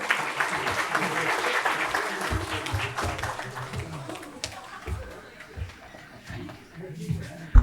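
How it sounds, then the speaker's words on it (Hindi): Audience applause at an autobiography launch ceremony welcoming a speaker, sustained clapping from an indoor hall that gradually thins into scattered claps and shuffling. "प्रवीण राव, तालियों से स्वागत कीजिएगा।"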